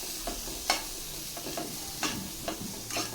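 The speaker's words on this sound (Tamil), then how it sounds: "ஹை ஃப்ளேமில் வச்சு மிக்ஸ் பண்ணி விட்டுக்கோங்க." Vegetables seasoned with turmeric and garam masala stirred in a pan over high flame: a soft steady sizzle broken by periodic scraping strokes of a spoon, with no voices.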